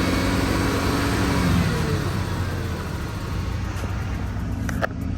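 A Ford Grand Marquis engine runs steadily at idle, a continuous low rumble that stays loud and close throughout, with a brief click near the end.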